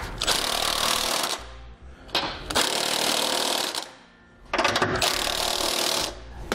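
A power tool, likely an impact driver, snugs down the mounting bolts of a Curt trailer hitch receiver on a 2012 BMW X6, three loud rattling bursts of a second or two each with short pauses between.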